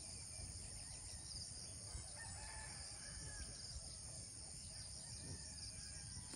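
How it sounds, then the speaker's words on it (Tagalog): A rooster crows at a distance amid steady outdoor farm ambience on a foggy morning, with chickens and insects, faint and continuous with no talking. "Hala, ang daming manok."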